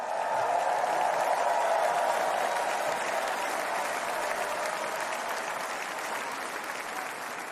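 A large crowd at the Republican National Convention applauds Donald Trump's speech, a dense and sustained roar of clapping. It stays loud and even, then eases slightly toward the end, with no speech over it.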